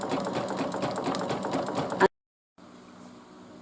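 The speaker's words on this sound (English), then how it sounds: "Stop the machine there just to snip the thread. And I'll continue stitching that." A sewing machine stitching a design on a hooded towel runs with a fast, steady, loud mechanical whir for about two seconds, stops abruptly into silence, then a faint hum follows.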